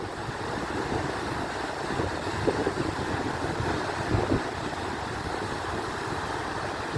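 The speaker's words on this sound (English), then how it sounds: "here comes a big wave" Big ocean waves breaking at the Hastings Point headland in New South Wales, a broad continuous roar of surf with gusty wind noise, steady and fairly distant.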